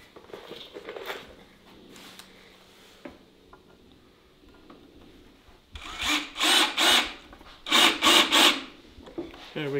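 A power drill drives screws into the rungs of a wooden blanket ladder, with quiet handling and rubbing early on, then several loud, close bursts of drilling in quick succession toward the end.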